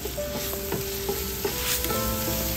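Garlic-ginger paste frying lightly in a pot while making paya, a soft steady sizzle with a few stirring knocks and scrapes, no voices.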